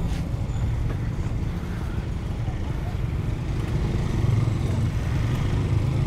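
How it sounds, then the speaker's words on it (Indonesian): A steady roar of traffic jam with motorcycles, engine rumble continuous and close, with people talking over the din. "Wah, jadi macet banget."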